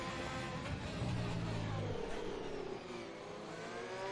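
Racing car engine from the F1 2020 video game at the Austrian round, revving loudly and steadily with a dense broadband roar that swells briefly, then holds through the clip without talk.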